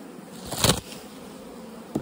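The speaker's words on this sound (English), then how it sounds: "Looks like there's a mass of bees in here." Honeybees from a late-season bulk bee split buzzing inside a hive box, a steady low hum with a louder burst near the middle and another brief swell at the end, close by and without talk.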